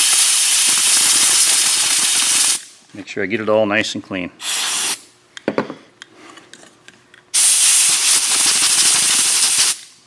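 Loud bursts of compressed air blast a Toyota Prius transmission part clean after an ether spray, two long hissing blasts separated by a stretch of talk and clinking.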